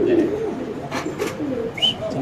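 Satin pigeons in a cage coo in low, rolling phrases, with a few sharper noises breaking through the close, steady cooing.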